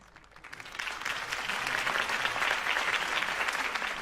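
Crowd applause after a campaign speech in Batman: The Telltale Series swells up from quiet to a full, dense roar of clapping that holds strong and steady to the end.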